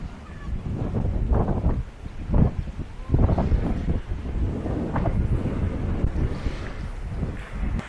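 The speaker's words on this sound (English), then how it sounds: "Very breezy today, very breezy." Gusty wind buffets the microphone on a small beach at Ao Sane in Phuket, with loud low rumbling bursts and rising gusts over a steady roar, no voices.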